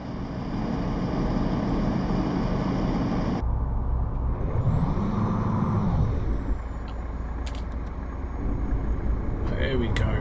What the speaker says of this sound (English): Truck doesn't want to pull.